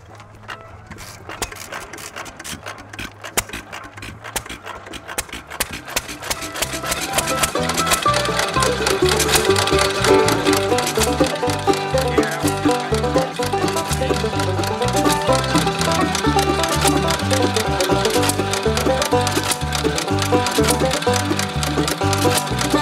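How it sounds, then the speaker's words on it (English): A Lawson hit-and-miss engine chugs with a rhythmic mechanical knocking that starts quieter and then grows louder and steady as it runs and coasts, driving an Alaska Freezer ice cream maker. "It lets go of the exhaust valve and it closes and it fires again, and then it goes into another motion of just coasting, and it'll run like that all day long."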